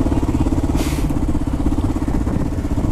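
A Kawasaki KLR 650 motorcycle engine drones steadily off-road in first gear at McLean Creek, a close, pulsing throb with a brief hiss near the start and no talk.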